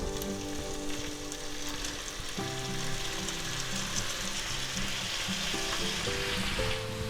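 Green and red peppers and snap peas fry in a pan for a chicken and broccoli stir fry, crackling and hissing steadily and closely throughout, with a low tonal hum running underneath.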